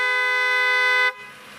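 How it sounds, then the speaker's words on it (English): Horn of a 1991 Mercedes-Benz S-Class sounding its normal note: one steady, loud, harmonically rich honk held for about a second before cutting off, with nothing else audible. "Honk the horn normally and it sounds like this."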